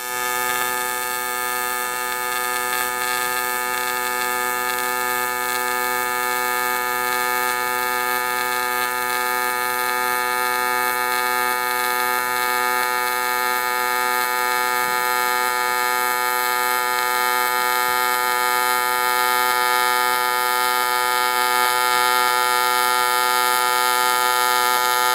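Aluminum being TIG welded with a CK-MT200 Master TIG torch gives a steady, unbroken electric buzz with a strong tonal hum, continuous and fairly loud for the whole stretch with no talking.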